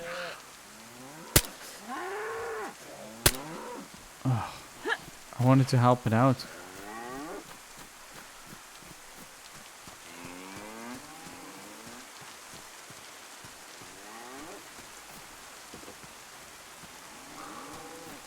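Cows low repeatedly in the survival video game DayZ, several drawn-out moos spread across the scene, mixed with someone talking and a few sharp clicks.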